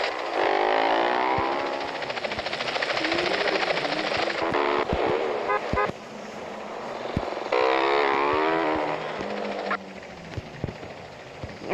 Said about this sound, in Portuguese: Tem até helicóptero me seguindo.